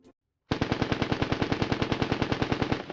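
Rapid automatic gunfire from a video game, The Division 2: a crisp burst of roughly twenty evenly spaced shots, loud and close, following a short moment of near silence.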